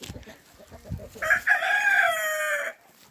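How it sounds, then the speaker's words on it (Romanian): Farmyard chickens, with soft clucks at first and then one loud, drawn-out crowing call that rings close by for over a second before cutting off. "Ia uitați găinuțile."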